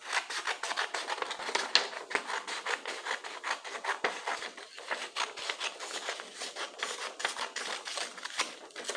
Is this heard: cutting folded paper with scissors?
yes